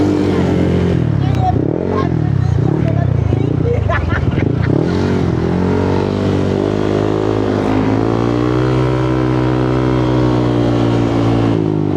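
A Honda PCX160 motor scooter under way, its engine droning loud and close with rising and falling revs, then settling into a steady cruising hum.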